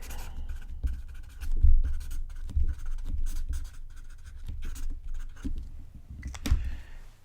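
A pen writing on paper up close, soft scratchy strokes and small taps in an irregular rhythm, quiet and intimate with no talking.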